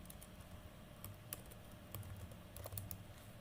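Steady, quiet clicking of keys on a computer keyboard as an email address is typed, forming an even patter of light taps over faint room hiss.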